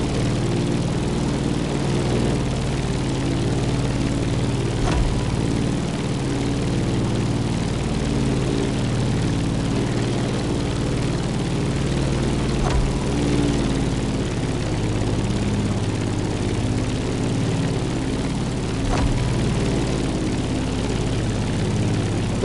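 A propeller airplane climbs in the Crew Motorfest racing game, its engine a constant loud low drone with a steady rhythmic propeller beat and faint periodic clicks, with no voices.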